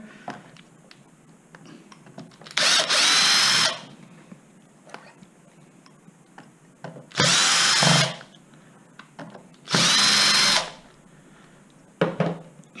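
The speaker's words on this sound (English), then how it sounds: "there's 3 more screws that connect the motor to the gearbox, so we'll remove these 3 out of the way" A power drill removes three screws joining the motor to the gearbox of a Zip X5 electric scooter, with three separate loud whirring bursts, each about a second long, separated by quiet pauses and a short fourth burst at the end.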